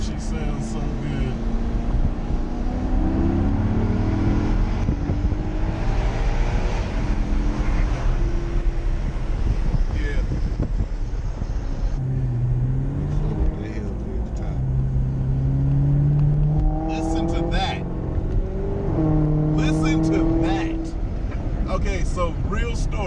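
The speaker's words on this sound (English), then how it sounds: "I bought the RX-8 because the motherfucker sounded phenomenal when I got on it in a certain rev range" A Mazda RX-8's rotary engine revs and climbs through the gears while driving in the city, a loud, rising drone heard from inside the car with talk over it.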